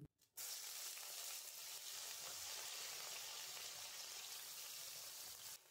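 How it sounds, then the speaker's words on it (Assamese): Soaked eggplant pieces hit hot mustard oil and burst into a loud, steady sizzling hiss that continues unbroken for several seconds, with a short quiet moment before it starts. "তেল গৰম হোৱাত ইয়াত মই বেঙেনাখিনি লৈ ল'লোঁ।"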